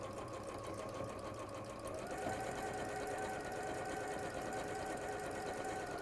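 A domestic sewing machine zigzag stitching, couching over a cord, a fast, steady mechanical whirr with a faint rhythmic knock, close and continuous, picking up slightly in pitch after a couple of seconds.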